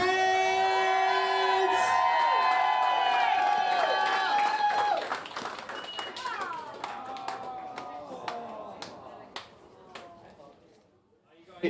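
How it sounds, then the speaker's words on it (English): Wedding guests applaud and cheer, with scattered claps and whoops rising under loud sustained music that fades out, leaving sparse claps near the end. "Big round of applause!"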